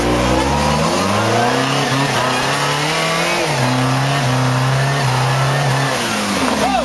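Subaru 4WD car engine revving hard while climbing, a loud continuous rising and falling engine drone that fills the whole stretch with no break.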